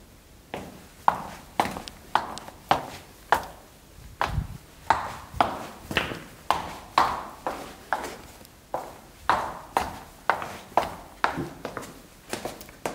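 Footsteps walk at a steady, even pace across a parquet floor laid over an insulating underlay, picked up by a phone resting on the floor: about twenty firm, close, slightly hollow taps with no talk.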